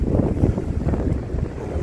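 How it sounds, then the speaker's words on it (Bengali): Strong coastal wind at Canal Rocks near Margaret River, Western Australia, roars steadily as a loud, continuous low rumble buffeting the microphone, with a faint wash of surf beneath it and no voices. "ওয়েদারটা দেখো এত হাওয়া হয়তো তোমরা কিছু শুনতে পাবে না"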